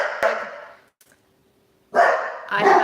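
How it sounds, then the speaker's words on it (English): An English Bulldog and an English Mastiff barking indoors, with loud, close bursts of deep barks, a brief quiet gap, then another run of barking. "excuse my dogs just like completely losing their mind"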